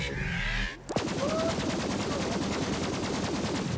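Rapid pistol fire in the co-op shooter game Borderlands 3, a fast unbroken string of sharp shots after a brief whooshing effect, loud and close.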